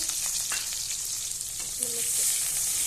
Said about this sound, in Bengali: তো তেল গরম হয়ে গেছে, এবার আমি দিয়ে দেব পেঁয়াজ, লঙ্কা বেগুন আলু ভাজার জন্য।